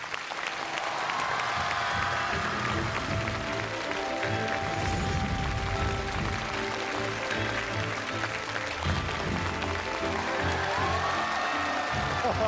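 A television studio audience claps loudly and continuously to welcome two guests onto the stage of a Chinese poetry-and-painting variety show, a dense, even wash of applause that holds for the whole stretch.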